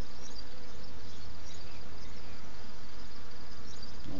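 Honeybees in an open hive make a continuous dense buzzing drone, close and fairly loud, steady from start to end with no speech.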